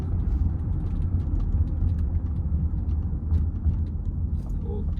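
Range Rover L322 engine running smoothly while driving, a steady low rumble with road noise inside the cabin, continuous and even throughout.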